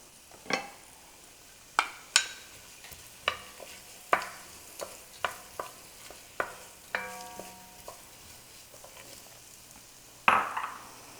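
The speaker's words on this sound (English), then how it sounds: "we're adding the onions and the shallots" Onions and shallots going into a heated pot for soup, with a faint sizzle under repeated sharp clinks and scrapes of a utensil stirring against the pot, close and intermittent.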